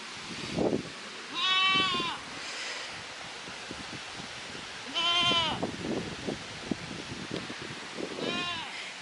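Sheep inside a farm enclosure bleat in three separate drawn-out calls at close range, over a soft windy background with faint shuffling and a little quiet talk.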